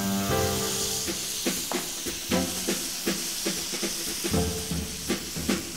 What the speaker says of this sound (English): oil a heated frying pan and stir fry the marinated bulgogi